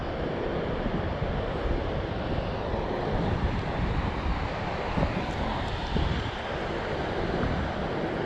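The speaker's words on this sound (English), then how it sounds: "the wind just blew my line over that way, so now we got to compensate for the wind" Steady wind blows outdoors during bass fishing, a constant loud rushing roar buffeting the microphone from start to finish with no voices.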